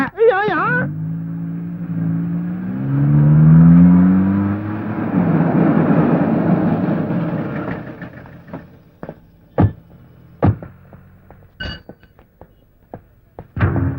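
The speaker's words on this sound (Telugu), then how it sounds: "అదే బస్సు." A bus drives past on a road, its engine swelling loud and rumbling for several seconds before fading, followed by a series of sharp knocks and thuds.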